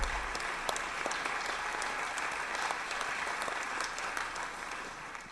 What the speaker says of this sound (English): let's give them a round of applause for our Republican and Democratic staff